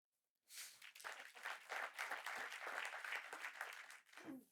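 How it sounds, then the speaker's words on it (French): An audience at a business seminar breaks into applause after a short silence, a steady burst of clapping that holds for about four seconds before tapering off, with a murmur at the very end. "Vous pouvez applaudir"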